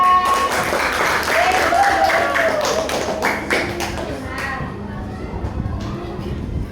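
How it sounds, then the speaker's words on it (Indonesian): A classroom group claps for group 4, a burst of many hands tapping quickly and irregularly, mixed with children's voices and chatter, fading somewhat toward the end. "Tepuk tangan untuk kelompok 4."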